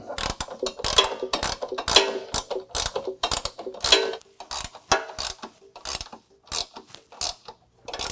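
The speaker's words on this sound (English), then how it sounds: "we'll go ahead and use our ratcheting wrench and we'll tighten it up" A ratcheting wrench tightens the Curt Class III trailer hitch bolts on a 2022 Toyota RAV4, making rapid bursts of sharp metallic clicks in uneven strokes with brief pauses between them.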